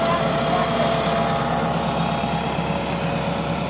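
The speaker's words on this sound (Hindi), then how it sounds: "ट्रैक्टर ट्रॉली को अनलोड किया जा रहा" A tractor engine runs steadily at close range while the tractor and trolley are unloaded from a boat, a continuous droning rumble with no clear pauses.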